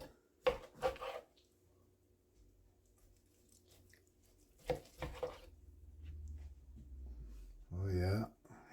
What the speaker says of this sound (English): Just chop them into individual slices now.